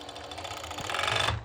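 A serger stitches and trims through three layers of mesh fabric, a fast steady mechanical whir running close and loud before cutting off abruptly.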